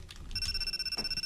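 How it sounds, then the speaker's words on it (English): Mobile phone ringing in a visual novel game, a steady electronic ringtone tone that starts partway in and sustains at moderate level over soft background music. "Her phone keeps on ringing."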